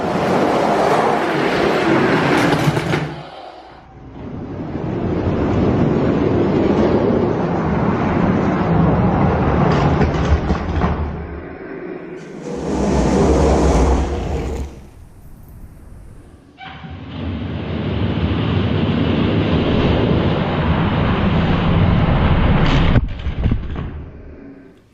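Hot Wheels toy monster trucks, including the Walrus and a gold Rodger Dodger, drag race down a track in a tournament, giving loud, sustained rolling rumbles in bursts separated by brief pauses.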